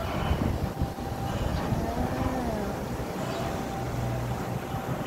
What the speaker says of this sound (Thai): พอเรือมาแล่นผ่านก็จะขึ้นก็จะกระทบฝั่งเนี้ย